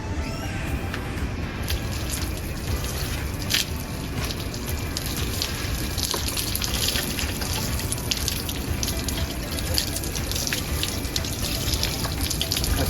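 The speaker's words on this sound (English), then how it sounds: "the motorcycle is being rinsed by the water again to clear the soap" Water running steadily from a hose or tap, rinsing soap off a motorcycle being washed outdoors, a continuous close gushing splash with no voices.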